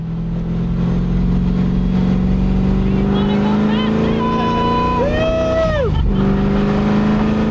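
A muscle car engine on a race track revs and roars steadily, rising and falling in pitch as it accelerates, loud and close, with a voice talking over it.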